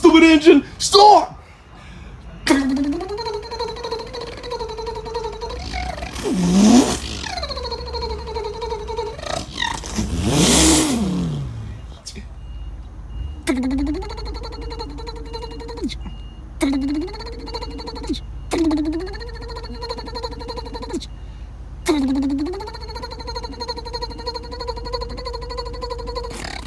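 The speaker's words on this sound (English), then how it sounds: "Start, you stupid engine. Start." A car engine cranks repeatedly and fails to start while the gas pedal is pumped, in several separate whirring bursts with short gaps, close and loud, mixed with a few other noises.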